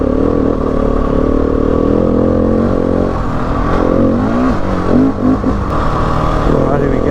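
A Husqvarna 701 Enduro motorcycle climbs bush terrain in second gear, its single-cylinder engine droning loud and close with shifting revs and some clatter from the ride.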